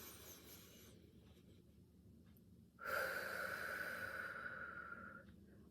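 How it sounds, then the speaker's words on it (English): Slow in-and-out breathing, drawn in through the nose and let out through the mouth, with a quiet inhale and then a longer, louder airy exhale in a still room. "So let's just take a couple of in and out breaths."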